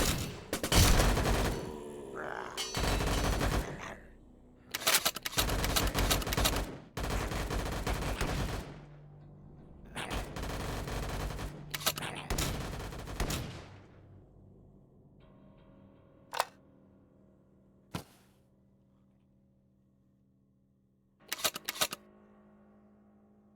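Shotgun blasts in VRChat come as loud bursts of rapid, clustered shots through the first half, then single sharp reports at longer intervals and a final short volley near the end, with quiet gaps between.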